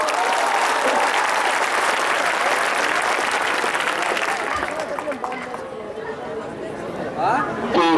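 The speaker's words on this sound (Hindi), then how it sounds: "और एक मरतबा पुरजोर तालियों से इस्तकबाल कीजिए अपने मेहमान का।" An audience applauds to welcome a guest at a college foundation stone function, steady loud clapping filling most of the clip before thinning out, with chatter and voices in the crowd.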